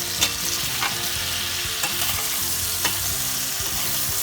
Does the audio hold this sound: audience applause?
no